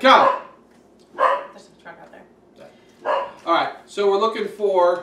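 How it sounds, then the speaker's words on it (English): A dog barks in short, sharp bursts in the background at home, several yaps spaced across the moment while someone talks throughout, the barks blending in and out between his words. "Apologize for the dog barking."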